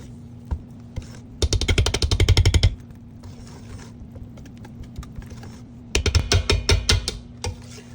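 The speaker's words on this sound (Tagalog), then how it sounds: "Kailangan gentle lang ang pag-mix kapag makahalo na yung powder at saka liquid" Red velvet cake batter is mixed by hand, gently folding powder into liquid, in two bursts of quick clicking, scraping strokes separated by quiet stretches over a low steady hum.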